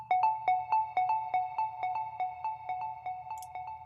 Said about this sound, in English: which was this little square sound.